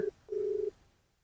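A telephone ringback tone plays during an unanswered call: a brief beep, then a longer steady beep, clean and alone, followed by silence.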